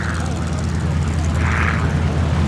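A Cap 232 aerobatic plane's propeller engine roars steadily as it takes off at an air display, loud and droning throughout, while a commentator talks over it.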